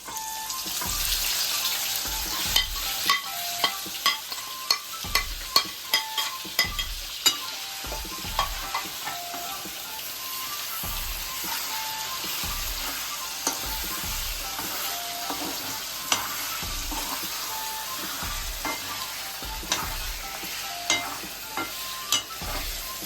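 Ingredients hiss in hot oil in a small kadhai, a steady sizzle broken by frequent sharp spoon clinks and scrapes against the pan, close and without talk.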